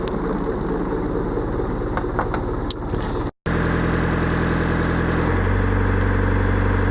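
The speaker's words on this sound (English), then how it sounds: "bringing the engine up to normal RPMs, so that's about 90 decibels" A boat engine runs at normal cruising RPM, a loud, steady mechanical drone that cuts out briefly and then returns heavier and deeper, holding a constant pitch.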